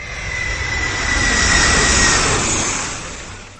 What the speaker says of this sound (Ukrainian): В кімнаті гуділи літаки.